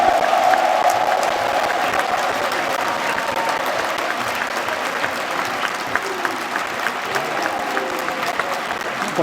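A large crowd at a PDCI-RDA political rally claps and cheers in strong, sustained applause that fills the space, a mass of hands and voices continuing without pause.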